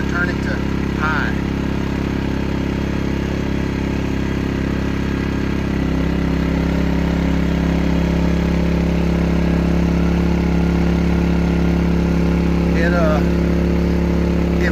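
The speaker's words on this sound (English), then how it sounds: "It like stuttered for just a second, and then it revved back up, and it's revving just a little bit higher." A small idling engine running as its heater is switched to high, giving a steady mid-pitched drone that briefly falters and then settles at a slightly higher revving pitch, continuous and close.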